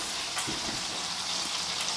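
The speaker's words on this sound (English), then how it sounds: "once we've chopped our bacon, we're going to put that in a frying pan on the stove" Bacon sizzles steadily in a hot pan, a constant crackling hiss with small pops, close and moderately loud, no voices.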